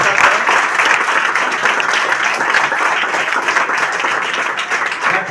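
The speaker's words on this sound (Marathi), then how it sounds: "तुमच्या आईवडिलाबद्दल एकदा टाळ्या वाजून" Audience applauding in honour of their parents at a gathering, steady loud dense clapping that fills the whole stretch without pause.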